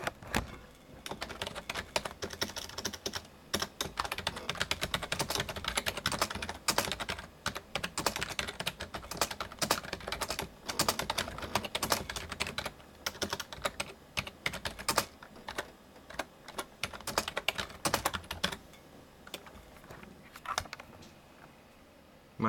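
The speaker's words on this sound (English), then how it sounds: "let's go in Microsoft Word 97. Let me type something in." Rapid, steady typing on the keyboard of a 1998 Compaq Presario 2510 running Microsoft Word 97 under Windows 98, dense close clatter of keystrokes continuing for about twenty seconds and thinning near the end.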